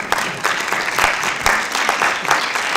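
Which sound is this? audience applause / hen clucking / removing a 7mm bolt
audience applause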